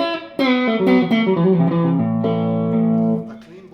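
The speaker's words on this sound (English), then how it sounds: "if I'm playing chords, you can hear some distortion" Electric guitar run through a Durham Electronics drive pedal, strummed chords ringing with crunchy, saturated distortion, loud and sustained, decaying as the last chord fades.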